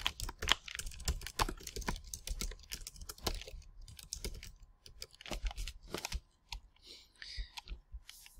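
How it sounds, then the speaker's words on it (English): Typing on a computer keyboard while writing a journal paragraph into a Google Docs page, quick irregular bursts of close, clicky keystrokes with short pauses between. "And then you will type your journal, your paragraph,"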